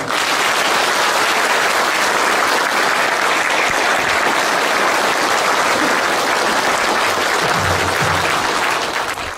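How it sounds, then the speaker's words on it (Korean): Loud, sustained applause from a lecture audience greeting a former national police commissioner at a talk on investigative reform, a thick, even roar of many clapping hands that continues unbroken. "큰 박수 부탁드립니다"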